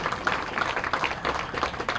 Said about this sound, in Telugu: గట్టిగా ఒకసారి మనందరి కరతాళ ధ్వన్లతో